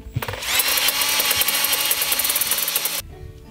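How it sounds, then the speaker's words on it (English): Electric drill fitted with an Allen wrench spins out a barbed-wire fence stay, a loud close whirring buzz for about two and a half seconds before stopping abruptly. "What I did was I put an Allen wrench inside my electric drill."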